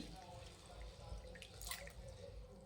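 Faint drips and soft trickles of water come from wheat grains being rinsed by hand in a bowl, quiet and intermittent with light splashes.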